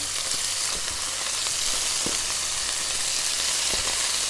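Beef steak pieces sizzling loudly in a hot smoking wok, a dense continuous hiss with a few sharp clatters as the pieces are spread around.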